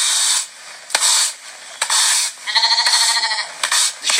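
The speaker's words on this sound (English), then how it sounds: "The sheep and the goats sleep in here," Sheep and goats in a pen at an urban community farm bleat loudly and close up, several long wavering calls with short gaps between them, one bleat strongly quavering.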